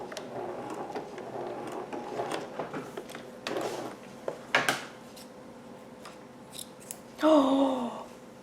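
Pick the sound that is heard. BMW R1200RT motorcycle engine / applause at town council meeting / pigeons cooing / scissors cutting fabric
scissors cutting fabric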